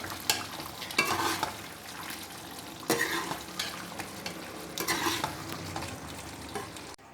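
Chicken with tinda (round gourd) is stirred and mixed in a pan over low heat, giving a steady soft sizzle with scraping strokes of a spoon against the pan every second or so and no voices.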